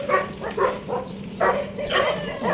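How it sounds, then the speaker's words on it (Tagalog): Dogs bark in repeated short bursts during a morning walk, several yelping calls overlapping at moderate distance against a steady outdoor background. "Ang ingay ng mga aso."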